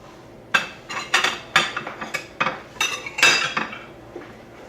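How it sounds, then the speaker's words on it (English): Metal utensils clatter and scrape against baking pans as chicken is moved onto plates, a quick series of sharp clinks and knocks, with no voices. "I'm gonna take the chicken right off of the baking pans here. I'm gonna put them on plates."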